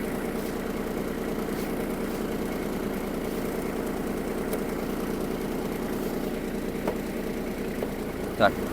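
A Kubota GB-20 mini tractor engine idles steadily at close range after warming up, a low even rumble with a faint click near the end.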